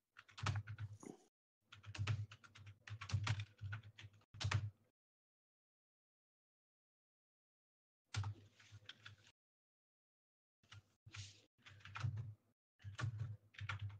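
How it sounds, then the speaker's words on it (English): Typing on a computer keyboard, rapid clicky keystroke bursts in several runs separated by silent pauses, close and fairly faint with no speech. "I'm typing."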